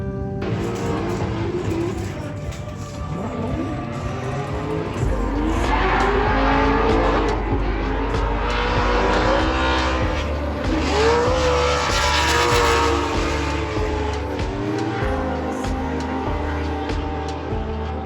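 Formula Drift race car drifting in competition, engine roaring loud and close with rising and falling revs and tire squeal sustained throughout, no speech.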